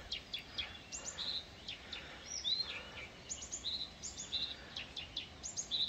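Birds sing around abandoned dacha plots: several thin, high chirps and whistled phrases repeat and overlap at moderate distance over quiet background, with no one talking.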